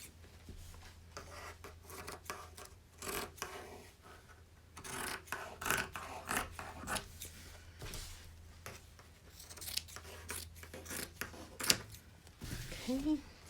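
Scissors trim the fabric sides of a quilt purse about a quarter inch from the edge, giving repeated close rasping snips over a low steady hum, with brief talk in places.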